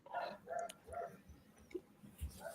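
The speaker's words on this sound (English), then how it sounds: "So, that's your dog barking?" A dog barks in a short series of separate, fairly close yaps, roughly one every half second, with a low thump near the end and no talk over it.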